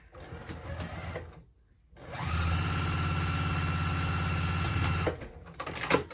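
A sewing machine stitching and back stitching fabric with a quarter-inch seam, a steady mechanical whir that runs for about three seconds after a short pause, with softer machine noise before and after.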